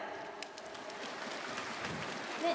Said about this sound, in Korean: 여러분 박수로 맞으시죠.